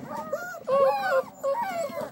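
Young puppies whimpering in several high, thin whines, close by and fairly loud, rising and falling over a couple of seconds.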